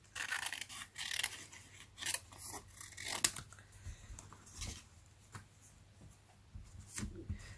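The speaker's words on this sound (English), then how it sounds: "we want to take our scissors and we'll move the paper and not the scissors" Scissors snip stamped paper as it is fussy cut for a handmade Thanksgiving card, giving soft, irregular close-up clicks and crisp cuts against a quiet room hum.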